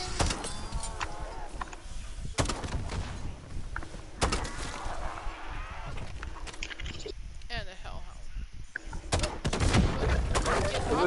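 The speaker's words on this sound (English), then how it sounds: "It's an airstrike." Airstrike explosions and gunfire crash through a zombies video game, several heavy booming blasts scattered among rattling shots, with players talking over the chaos.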